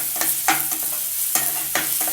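Chopped capsicum and ginger garlic paste sautéing in a pan for paneer fried rice: a soft, continuous sizzle broken by several scraping stirs of the spoon, close and at a steady moderate level, with no voices.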